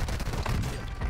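Brief, dense crackle of gunfire in Call of Duty: Warzone 2, sounding like another player shooting at a moderate distance, a continuous rough burst with no clean separate shots.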